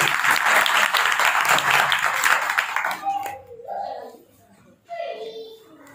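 A church congregation claps together as a salute to God, a loud dense burst for about three seconds that stops abruptly, followed by someone speaking in a quieter room.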